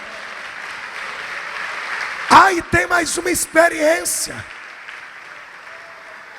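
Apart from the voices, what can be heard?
audience applauding in church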